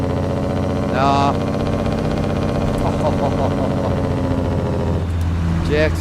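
Truck engine with jake brake in American Truck Simulator, a deep, steady, droning rumble with harmonic tones that holds throughout, while people talk over it in short bursts.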